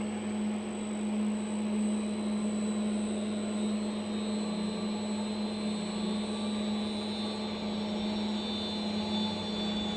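A refrigerated laboratory centrifuge with its lid closed, running steadily: a constant, even electric hum and whirring drone with a high whine, unchanging and alone throughout.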